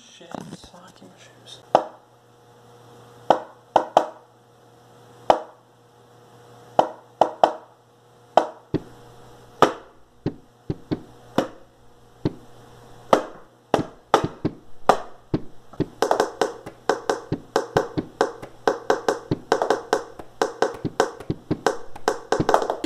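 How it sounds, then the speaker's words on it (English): Fingers tapping on the back of a mirror as makeshift drums, a series of sharp, close taps, sparse and uneven at first, then growing into a dense, quick rhythmic pattern. "I'm just gonna use this back of this mirror as the drums"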